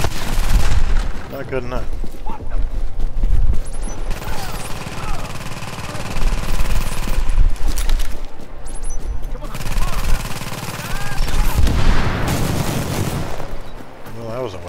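Video game turrets firing in loud bursts with heavy booming impacts, overlapping and continuous for most of the stretch, with someone talking briefly over the gunfire.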